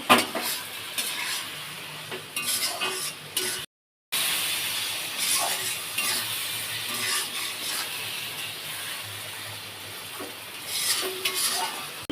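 Soybean mince frying in oil with spices, a steady sizzle with spatula scrapes and occasional pan clinks, close and continuous apart from a brief gap.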